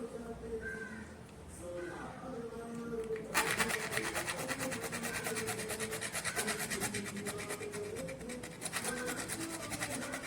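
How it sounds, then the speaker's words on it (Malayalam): A hacksaw blade cuts through a PVC pipe fitting, giving a steady, dense rasping that starts a few seconds in and continues to the end, following softer scraping and handling. "ഇവിടെ ഹാക്സോ ബ്ലേഡ് വെച്ച് ചെറുതായിട്ടൊന്ന് കട്ട് ചെയ്യണം."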